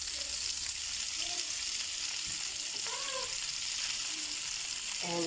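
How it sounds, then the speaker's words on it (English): Dry chili, star anise and bay leaves fry with salt in a pan of hot oil, giving a steady hiss and sizzle with occasional faint spoon scrapes. "I'm going to let this fry up."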